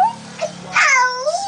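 A cat meows loudly at close range, a long, rising-and-falling cry after a couple of shorter, softer mews.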